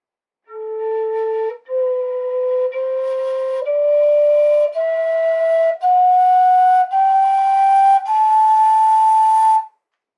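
A Native American flute plays the Dorian scale as eight clear, breathy notes, each held about a second and climbing steadily in pitch, close and alone.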